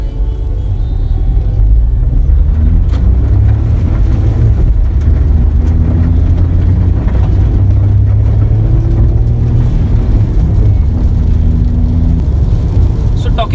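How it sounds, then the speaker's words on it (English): A 2021 Ford Freestyle Titanium Plus engine revs loudly and continuously, a heavy low rumble that rises and falls with throttle, with a voice faintly present beneath. "Now we'll give a very quick throttle."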